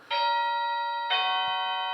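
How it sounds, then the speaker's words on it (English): Two clear electronic doorbell chimes ring out in succession, a bright sustained ding followed by a second tone, close and loud with no talking. "And that's the doorbell."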